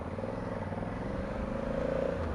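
A 2020 Honda Africa Twin on the road, heard as a low, steady engine drone mixed with wind rumble from the rider's position, moderately loud and unbroken, with no talking.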